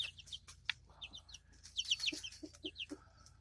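Several young chicks on grass cluck and peep close by in short, irregular bursts, with soft rustling in the background.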